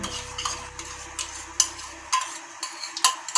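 A spoon stirs homemade yogurt into raw chicken pieces in a bowl for marinade, giving soft wet scraping with a few sharp clinks against the bowl, close and fairly quiet with no talking.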